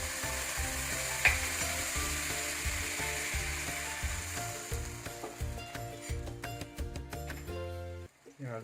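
A little water goes into tofu puffs frying in a pan for Hakka yong tau foo. It raises a loud, hissing sizzle that crackles close by, then drops away abruptly near the end.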